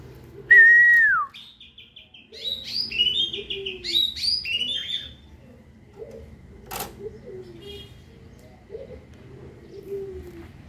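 An Asian pied starling (jalak suren) gives loud whistles and a run of chattering, warbling calls, then quieter bursts over a low background hum; a sharp click stands out near the middle.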